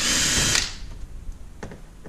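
A power drill whines loudly at close range for a moment while backing out a T15 Torx screw from a C7 Corvette rear spoiler, then stops, followed by faint clicks and handling noises.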